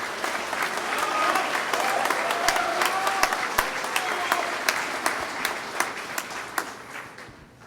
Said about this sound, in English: Ladies and gentlemen, let's please give a nice round of applause to Joseph Friesen.